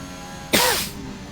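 One sharp, short sneeze bursts out at moderate volume during quiet racing-league commentary, then fades quickly back to low background hiss.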